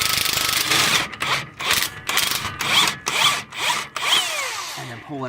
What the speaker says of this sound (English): if you take a crescent wrench and your impact here, you can get it started